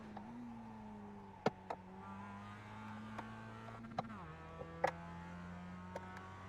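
A Global MX-5 Cup car in iRacing at Summit Point Raceway drones steadily, then its engine note drops as it brakes hard, with faint clicks scattered over the low hum.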